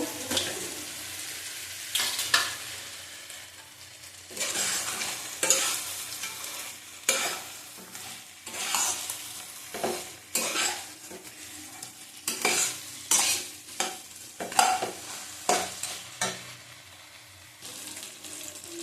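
Bhetki fish bones cook in thick masala in a pan, stirred with repeated loud scraping strokes in an uneven rhythm over a low, intermittent sizzle; close up, no talking.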